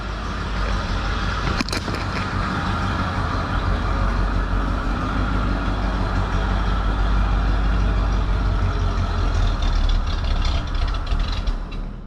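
A 1973 Ford F100 engine, started for the first time after sitting since 2007, runs steadily at idle, loud and near, with a constant low rumble throughout and one brief sharp knock early on.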